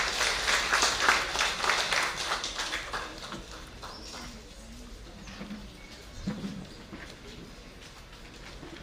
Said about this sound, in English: May I have applause for Ms.